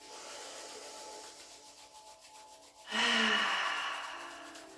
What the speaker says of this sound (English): Just begin by rubbing your hands together.